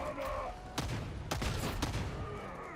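Gunner enemy opening fire in Warhammer 40,000: Darktide, a dense rattle of sustained gunfire with a few sharper bursts standing out over steady game noise.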